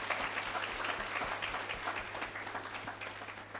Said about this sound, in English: we really want to give a final round of applause to Brother Panganai.